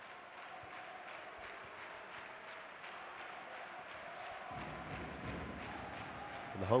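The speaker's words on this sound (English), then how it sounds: "The home crowd's just starting to get into it." Home crowd at a Basketball Champions League game between UCAM Murcia and Hapoel Holon, a steady arena roar that swells slightly toward the end, with faint rhythmic thumps running under it.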